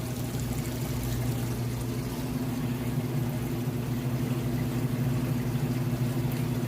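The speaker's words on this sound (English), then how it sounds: "It's draining out all the water now, which you can hear." A Maytag top-load washer drains its water at the start of the final spin, a steady rushing flow layered over a constant low motor hum, continuous and moderately loud with no voices.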